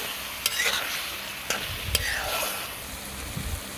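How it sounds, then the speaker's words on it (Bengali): Chopped tomato stir-fried with bottle gourd and taki fish in a pan, a soft continuous sizzle broken by several sharp spatula scrapes and taps, close and fairly quiet. "টমেটো কুচিটাকে এর সঙ্গে কষিয়ে নিই কিছুক্ষণ।"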